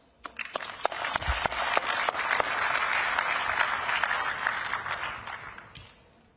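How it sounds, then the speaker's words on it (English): Conference audience at an energy event applauds, starting with scattered individual claps that swell into a full, steady round of applause before tapering off. "I would like to take this opportunity to thank them with a big round of applause"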